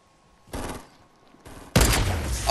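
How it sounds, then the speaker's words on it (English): A sniper rifle fired in a first-person shooter video game: two brief sharp bursts followed by a loud, close, booming shot at the end. "Oh, I've sniped him!"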